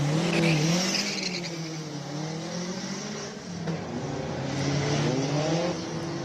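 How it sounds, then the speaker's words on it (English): Turbocharged Porsche 924 GTP tribute with a wide rear body, pulling away from the start line at a classic car speed event in Cape Town; a loud, rasping engine climbs and wavers in pitch over outdoor background noise. "You can hear the turbos pulling up from the start line."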